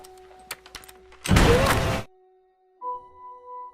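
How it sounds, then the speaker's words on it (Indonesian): A single sharp gunshot in a film bursts out loud amid quiet background tones, followed by silence and a faint electronic hum. "Suara tembakan itu sempat membuat Teddy dan Casey kaget."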